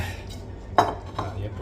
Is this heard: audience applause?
no